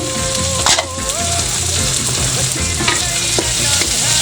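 Shrimp sauté loudly in a hot pan for a ginisang ampalaya dish with tofu and egg. A dense, continuous close sizzle runs throughout, with stirring clatter and scrapes over it.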